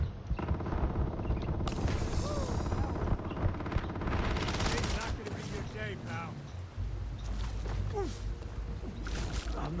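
A gun fires in Starfield, with bursts of rapid shots crackling loudly in the first seconds before the shooting gives way to scattered game noise. A person talks over the action.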